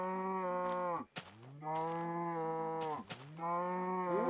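Several long, loud harmonic moos from Minecraft cows being herded into a farm, with brief clattery breaks between calls and no talk over them.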